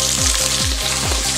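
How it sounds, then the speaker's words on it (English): Zucchini sizzles steadily in a hot frying pan, a loud, close hiss with a repeating rhythmic scrape or stir roughly every half second, and no voices. "while I've got the zucchini cooking"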